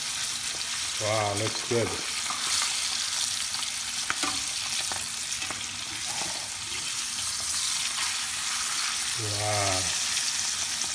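Mackerel frying in a pan after being flipped, giving a continuous loud crackling sizzle close by, with a voice briefly exclaiming over it.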